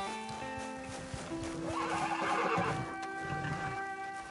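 A horse in Red Dead Redemption II whinnies in a drawn-out neigh over soft hoof clip-clops, with faint background ambience and no talking.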